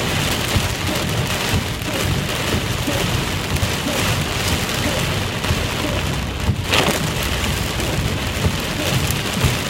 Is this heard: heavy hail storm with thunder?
yes